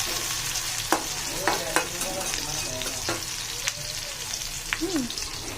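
Pangas fish pieces, with the head split in two, go into a bubbling curry, and a close sizzle runs under several sharp knocks and clinks of a spoon stirring the pot, with no talking.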